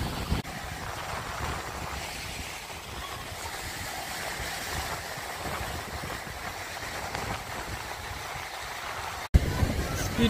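Speedboats out on the sea at a Vizag beach, a steady wash of motor and surf noise that stays broad and fairly even, with a sharp knock near the end.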